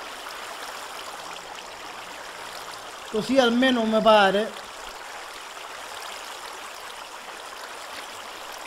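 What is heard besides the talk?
water draining in Minecraft video game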